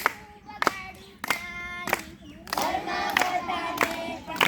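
Hand claps ring out sharply in an irregular sequence, several single claps followed by quicker clapping, while a voice sings or chants alongside in a children's song.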